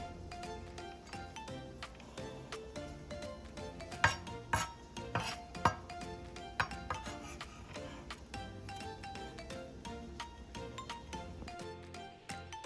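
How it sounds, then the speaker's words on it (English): Garlic being finely minced with a knife on a cutting board for vegan meatballs, a quick, irregular run of sharp taps and scrapes close by, with no voices. "I'm gonna go ahead and chop up some garlic as well, make that minced and very small"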